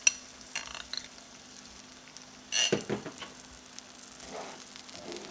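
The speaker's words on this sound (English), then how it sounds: "just take your eggs and you're gonna cook this all the way through until your eggs are done" Eggs frying in a pan for keto breakfast tacos, giving a low, steady sizzle with a few soft scrapes and one louder burst of stirring partway through, heard alone at close range.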